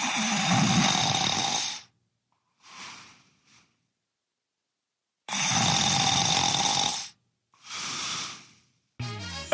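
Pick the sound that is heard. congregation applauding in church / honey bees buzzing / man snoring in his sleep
man snoring in his sleep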